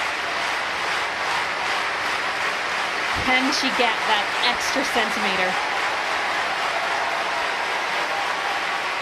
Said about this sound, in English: Everyone in the stadium is clapping in unison.